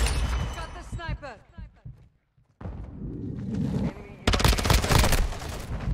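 Video game gunfire comes in sharp bursts of rapid shots, growing into a dense, loud volley toward the end, with someone talking over parts of it.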